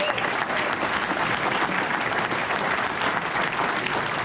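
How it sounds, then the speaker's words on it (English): A packed room at the University of Minnesota Wrestling Gala breaks into steady, full applause, dense clapping holding at an even level throughout with a hint of crowd murmur underneath. "Let's give them a round of applause."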